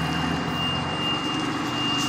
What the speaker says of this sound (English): now I'm going to start it back up. I'm going to put the high idle on.